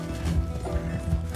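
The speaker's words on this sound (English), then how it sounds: "Jamie, I will lasso you off that horse." Horse hooves clop and a horse whinnies in Red Dead Redemption 2, a brief, fairly loud burst of in-game horse sound with a steady low rumble underneath.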